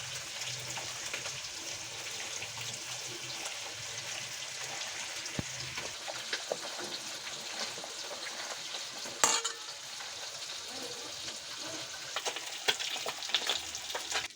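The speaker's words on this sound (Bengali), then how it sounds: "এবার আমি মাছগুলোকে ভেজে নিচ্ছি" Fish frying in oil in a pan, a dense, steady sizzle that runs throughout, with a few brief clinks and a louder spatter partway through.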